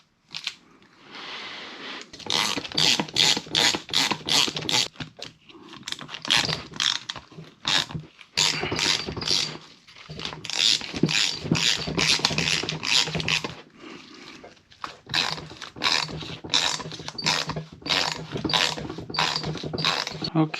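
A ratchet snugs titanium bolts on an Aprilia RS660 motorcycle during assembly, giving repeated quick bursts of close, crisp clicking separated by short pauses.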